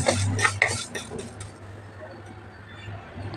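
Fenugreek and coriander seeds fry in a pan for a Telugu thotakura pulusu curry, with a few quick metallic clinks of a spoon stirring at the start, then a quiet, low background of gentle frying.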